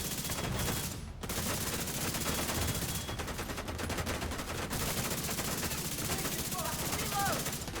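Sustained gunfire in The Division 2, a dense, continuous stream of rapid shots and impacts filling the scene, with game voices calling out over the shooting.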